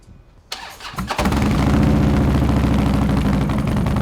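A Harley-Davidson motorcycle fitted with a Lowbrow Customs 2-into-1 SuperMeg exhaust by Kerker cranks and fires, catching after a brief starter whir and settling into a loud, deep, loping idle close by.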